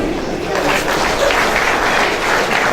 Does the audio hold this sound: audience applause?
yes